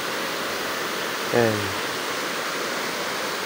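Water rushes steadily through a swollen river that has washed over what used to be a flat road, a loud, constant broadband roar with one brief spoken word partway through.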